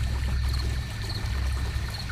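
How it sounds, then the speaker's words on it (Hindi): Water flows and pours steadily in a building, a constant low rushing wash with faint higher trickling, alone without any talking. "पानी तब भी बह रहा था।"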